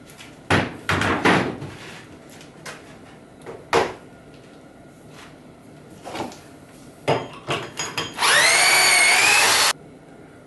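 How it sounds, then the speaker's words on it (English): A power drill bores pocket holes into plywood cabinet sides amid knocks and clunks of handling the boards, ending with one loud sustained high whine of the drill running for about a second and a half. "I'll drill pocket holes along the length of each of the sides in the back"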